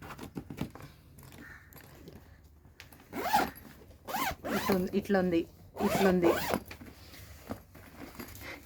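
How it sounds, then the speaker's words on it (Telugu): A zipper on a fabric jewellery storage box pulled open and closed in several quick, close rasping strokes, with a brief spoken remark in between. "ఇగో ఇటు ఒక జిప్ ఉంది"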